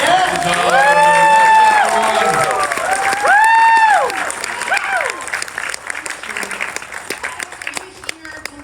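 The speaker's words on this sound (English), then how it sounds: "Can we have a round of applause for all the fan questions?" An audience at a Chicago Comic-Con Fan Expo panel claps and cheers loudly, the applause swelling then gradually thinning out, with shouts and voices mixed in.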